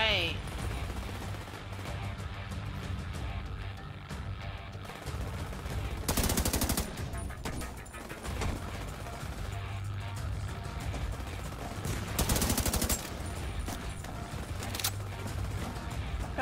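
Weapon fire in The Division 2 comes in two loud rapid bursts of automatic shots, several seconds apart, over a constant rumbling backdrop of game ambience.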